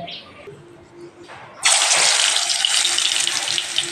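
Green banana kofta balls dropped into hot oil for frying: after quiet kitchen sounds and faint handling, a loud, steady bubbling sizzle breaks out and carries on to the end.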